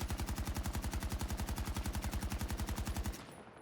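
Automatic AK24 rifle in Battlefield 2042 fires at a wall about 15 meters away: a loud, rapid, evenly spaced burst of shots lasting about three seconds, then cutting off abruptly into a faint tail.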